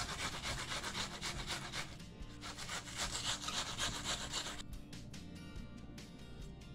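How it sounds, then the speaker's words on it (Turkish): An onion rasps back and forth across the fine side of a grater, a close, steady scraping rhythm of repeated strokes that eases into lighter, sparser scrapes near the end. "Bir tane soğanı ince et tarafından şöyle rendeliyorum."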